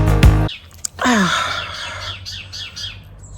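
Birds chirping outdoors, a loud close chirp after a brief thump, then a run of quick, fainter tweets repeating at a steady pace.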